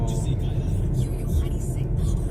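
Hyundai i20 Sportz petrol hatchback driving at a constant moderate speed on a highway with the AC on, a steady close rumble of engine and road noise with faint talk at times.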